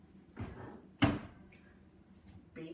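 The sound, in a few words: oven door opened to take out loaf of bread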